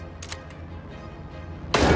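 Gunfire in a video game: a couple of short sharp shots early, then a loud blast near the end over a low game soundscape.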